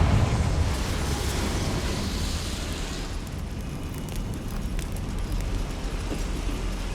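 Confringo fire spell explosion in Hogwarts Legacy, a sustained roaring, rumbling blast with crackling fire texture that slowly eases off over several seconds.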